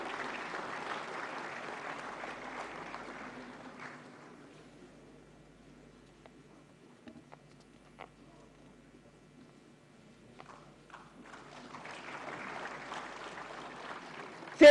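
Applause from the audience at a national film award ceremony as a silver lotus honour is presented, a steady crowd clapping that fades to near quiet in the middle before swelling again toward the end.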